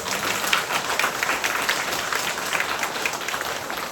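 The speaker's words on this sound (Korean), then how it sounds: "우리 박수 한번 쳐야 되겠죠?" Congregation at a Catholic church mass applauding during the homily, a steady dense wash of clapping hands that holds at even loudness throughout, with no voice over it.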